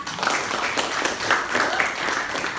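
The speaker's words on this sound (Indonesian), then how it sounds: "tepuk tangan untuk teman kita." A school class claps for a classmate, a brisk round of many small hands applauding steadily for a couple of seconds, with scattered voices mixed in.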